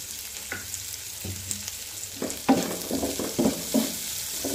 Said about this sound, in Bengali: এখন আমি এটা ভালোভাবে ভেজে নিব লালচে করে